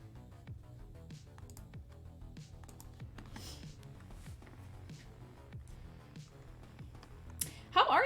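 Steady clicky typing on a computer keyboard, a fast irregular run of keystrokes close by throughout, with a louder clatter near the end.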